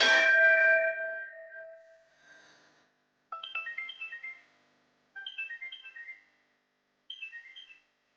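A phone ringtone plays a melodic electronic tune in three short bursts separated by pauses, after an opening chime that fades out.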